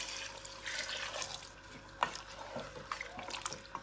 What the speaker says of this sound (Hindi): तो फिर यहाँ पे मैं अब यखनी डाल दूँगी, जो मैंने निकाली थी ना वो मैं इसमें ऐड कर दूँगी